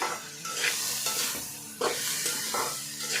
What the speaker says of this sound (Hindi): तब इसमें डाल देंगे हम ये चिकन को भी 1 मिनट के लिए फ्राई कर लेंगे।